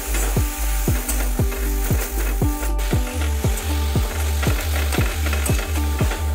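Modak filling sizzles steadily while being sautéed in a kadhai over a very low flame, with regular scraping strokes of a spoon stirring it, loud and close throughout.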